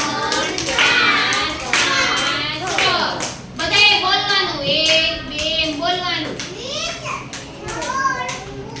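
Children clap their hands in quick bursts, clapping the number called in a counting game, while young voices call out and chatter over the claps, close by and lively.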